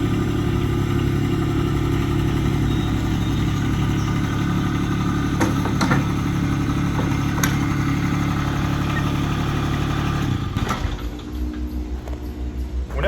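Toro Dingo compact utility loader with high torque trencher attachment, engine running at a steady loud idle with a few metallic clicks, then dropping in level near the end.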